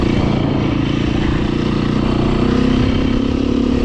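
A 2018 Beta 500RR dirt bike engine drones loudly and steadily while riding, a continuous close-up rumble with little change in pitch throughout.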